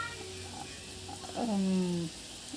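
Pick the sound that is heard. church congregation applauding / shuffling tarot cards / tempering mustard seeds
tempering mustard seeds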